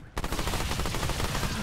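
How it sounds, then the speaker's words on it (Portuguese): Rapid gunfire in the video game Remnant II strikes an explosive object, giving a sudden burst of dense shots and blasts that fills the short moment after a brief quiet start. "isso aqui explode também com tiro"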